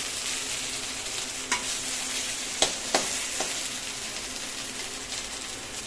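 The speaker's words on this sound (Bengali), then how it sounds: "মশলা আলু ভেজে নিচ্ছি কষিয়ে নিচ্ছি আর কি" Potatoes and spices frying and being stirred in a pan for a rohu fish curry, a continuous soft sizzle broken by a few sharp scrapes and taps of the spatula.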